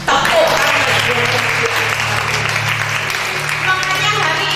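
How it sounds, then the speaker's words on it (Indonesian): Church congregation breaking into loud, dense applause that fills the hall for several seconds, with a steady low hum from the sound system underneath and crowd noise mixed in. "Tepuk tangan."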